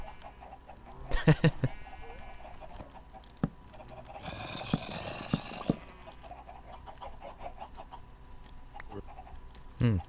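Scattered clucking chickens and bleating animal calls in Minecraft over a low game-like background hum, with sharp clicks and a louder burst of squawking midway.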